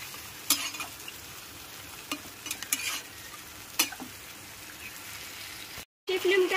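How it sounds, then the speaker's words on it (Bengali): Marinated chicken pieces stir-fry in a pan over high flame, with a dense hiss and sizzle broken by intermittent scrapes and crackles, then a brief dropout near the end. "এইবার সমস্ত ম্যারিনেট করা চিকেনের পিসগুলোকে খুব ভালো করে কষিয়ে নিতে হবে।"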